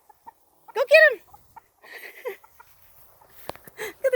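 Hens and a rooster clucking on a farm: a loud close cluck and crow-like call, then scattered softer clucks and short calls with quiet gaps, a voice briefly speaking among them.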